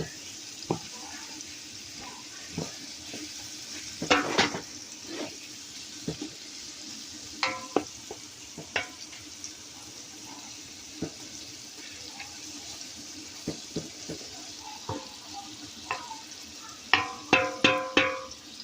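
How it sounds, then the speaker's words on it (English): Ground beef frying in a pot for old-fashioned spaghetti, stirred with scattered scraping clinks and soft sizzle over a quiet kitchen background, louder bursts of stirring toward the end. "I'm gonna stir that in there like this and let that ground beef continue to cook"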